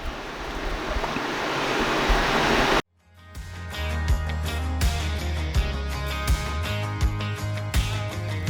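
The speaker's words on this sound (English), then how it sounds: "I'm going to put those into the washer here, and then they can get a nice cleaning" A household washing machine fills with water as a load of washing goes in, a steady broadband rush of flowing water running continuously with a brief break, then resuming with a lower mechanical hum and faint rhythmic clicks.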